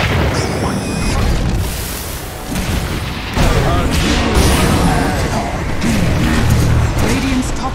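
A Dota 2 tower collapsing during a pro match: loud booming impacts and crashing bursts layered with clashing combat sounds, nearly continuous and close, with a voice speaking over the action.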